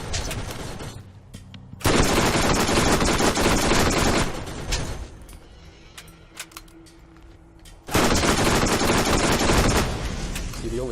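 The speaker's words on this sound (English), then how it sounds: "Oh, that's the Gatling." Gatling gun in the Borderlands video game firing in two long sustained bursts of rapid gunfire, loud and close, with a quieter gap of softer game sounds between them.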